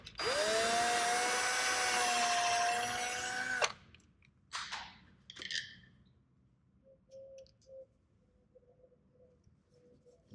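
Power drill boring a screw hole inside a 1967 Shelby GT-500 interior, a loud steady whine for several seconds that spins down, followed by a few short rattles and faint tones.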